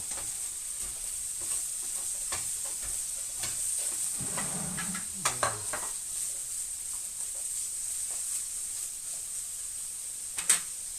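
Tomatoes and onions sizzle steadily in a pan, a constant hiss with occasional clinks and scraping from stirring, no talking.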